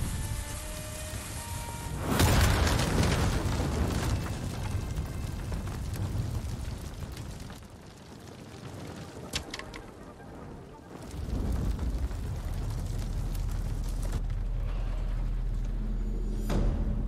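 Explosion in the samurai action game Ghost of Tsushima, a sudden loud burst followed by a long crackling, rumbling decay that fades, then a second rush of noise swells later.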